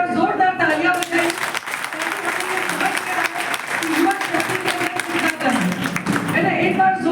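A college NSS event audience applauds the students with loud, sustained clapping throughout, close and steady, swelling again near the end.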